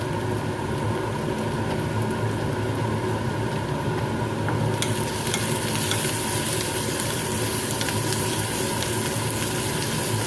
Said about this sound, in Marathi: कांद्यामध्ये आपल्याला थोडंसं दोन चमचे आपल्याला मीठ टाकून घ्यायचं जेणेकरून कांदा मस्त आपला नरम जाईल